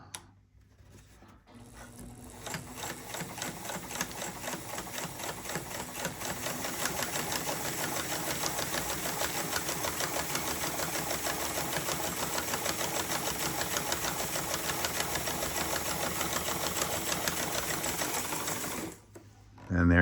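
An Adler 87 sewing machine running a long, loose zigzag stitch through eight layers of heavy, denim-like canvas, its steady rapid mechanical chatter sustained loud and close for nearly the whole stretch, with a voice faintly in the background.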